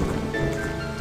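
Continuous rain sound from a retro Atari 2600-era game, an even, unbroken wash of falling drops at moderate loudness, alone without voices.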